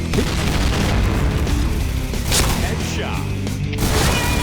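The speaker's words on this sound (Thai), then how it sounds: "เฮ้ยระเบิดมาแถวนี้ว่ะ" Grenade blasts in the shooter game Point Blank arrive as loud, booming bursts with crashing debris and whooshes, repeating amid continuous gunfire-like clatter over several seconds.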